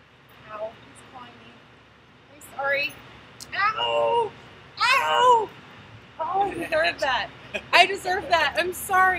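A cat meows repeatedly after an ice bucket challenge, a run of loud, drawn-out, complaining yowls close by, coming faster and more insistent toward the end.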